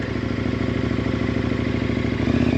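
A dual-sport motorcycle on dirt with its rear wheel locked, the engine chugging at low speed in a steady loud rumble, with rattling clatter as the bike skids a short distance.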